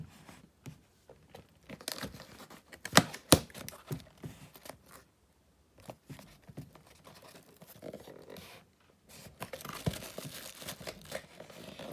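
Cardboard of a small copper USB desk fan box tears and crinkles up close, quiet rips and rustling scrapes in uneven bursts with brief pauses, no voices.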